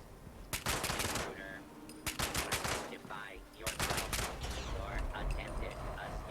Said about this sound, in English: Just shoot his arms off, he'll blow himself up.